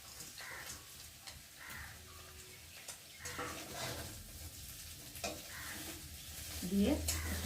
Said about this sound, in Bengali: আর এখন আমি চাউমিনগুলোকে এর মধ্যে দিয়ে দেবো।